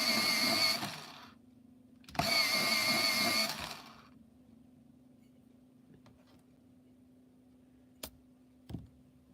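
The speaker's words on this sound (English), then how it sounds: "And let me sharpen." An electric pencil sharpener grinds a coloring pencil in two loud, close whirring bursts of a second or so each, followed by quiet and a couple of faint clicks.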